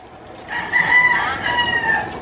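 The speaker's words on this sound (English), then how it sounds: "Roosters." A rooster in Angeles City, Philippines crows one drawn-out, wavering call lasting about a second and a half, fairly close and clear over low background noise.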